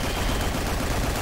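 Gunfire in the sci-fi shooter game Gigantic X, where players battle aliens: a dense, continuous burst of rapid shots, loud and close, with no gaps or voices.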